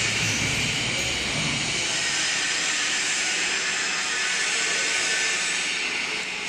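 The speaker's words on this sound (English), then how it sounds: "Here has a 50 liters high-speed mixer for the label." SHR 50-liter high-speed mixer machine with electric heater, running a continuous loud whooshing roar with steady hiss, close and unchanging throughout.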